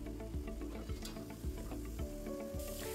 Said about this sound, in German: Und die Champignons werden jetzt wirklich nur kurz angebraten, bis das Wasser ausgetreten ist.